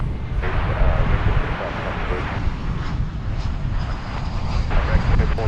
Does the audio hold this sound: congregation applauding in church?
no